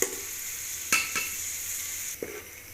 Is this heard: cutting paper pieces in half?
no